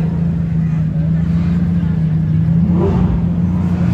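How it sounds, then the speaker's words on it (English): A deep, throaty Aston Martin sports car engine rumbles steadily and loudly, its low drone swelling slightly as it keeps running. "Just listen to that throaty roar."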